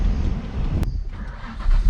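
A warm Ford BA GT engine with an aggressive cam rumbles roughly at low revs, struggling to hold an idle, loud and close, with a brief sharp click partway through.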